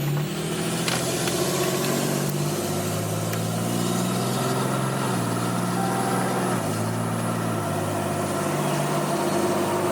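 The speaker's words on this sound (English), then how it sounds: "I'll put a video in here so you guys can hear and see what it sounds like driving and shifting." A truck with a RevMax 700 series 68RFE transmission drives under moderate throttle, its engine drone loud and steady. The pitch climbs and then steps down as the transmission shifts through gears, with a faint high whine running over the top.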